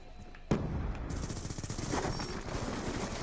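Rapid automatic gunfire in the Black Ops 2 video game, a sudden burst starting after a brief quiet moment and continuing as a dense rattling stream at moderate volume.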